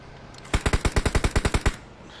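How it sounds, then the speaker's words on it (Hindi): Rapid automatic gunfire in a PUBG match, a burst of about fourteen evenly spaced loud shots lasting just over a second, with no talk over it. "जिजेयू जाट को गोलियां मार रहे हैं शायद"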